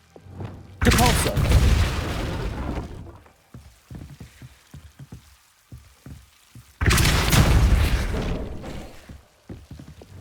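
A loud blasting spell from the Hogwarts Legacy video game hits twice, each burst a broad rushing boom about two seconds long, with quieter clicks and thuds between them.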